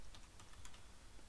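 Keys tapped on a computer keyboard while entering a pip install command in a Mac terminal, a few quick, light clicks at close range over a quiet background.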